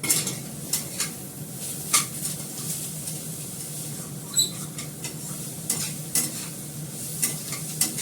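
Pumpkin stir-frying in a pan, with a soft continuous sizzle and irregular scraping clinks of a spatula against the pan, moderately quiet and close, no talking.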